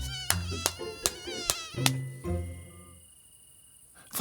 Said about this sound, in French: Les moustiques font un bruit horripilant